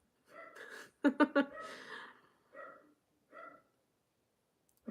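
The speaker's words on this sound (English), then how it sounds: "I apologize for the dog." Dog giving a few quick breathy snorts and short pants, close and fairly quiet, with brief speech-like sounds around them in a quiet room.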